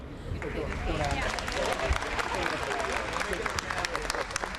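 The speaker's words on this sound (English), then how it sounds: "let's give a big round of applause to Director Hwang Dong-hyuk" Audience applause at a Squid Game Day press briefing in Los Angeles, a broad, steady wash of clapping from a crowd that carries on throughout the clip, with some voices mixed in beneath it.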